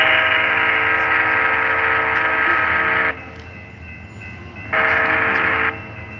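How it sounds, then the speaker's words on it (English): A model train's horn sound effect blares in a long sustained blast over rumbling rail noise, stops, then sounds again briefly as the running noise continues. "Comes the train."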